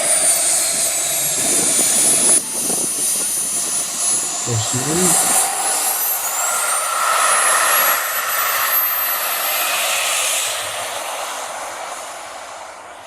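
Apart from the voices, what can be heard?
RC model jet plane turbine engine flying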